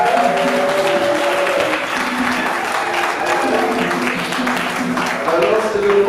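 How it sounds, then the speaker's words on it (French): A congregation applauds at a French wedding blessing for a couple, broad clapping with voices and tonal murmur mixed in beneath, dipping slightly midway before swelling again. "On applaudit."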